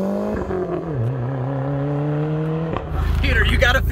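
A high-mileage Mitsubishi Eclipse GSX with all-wheel drive and added boost launches hard from a standstill. A steady, rising engine drone builds, then breaks into a loud roaring rush of engine and tire noise near the end.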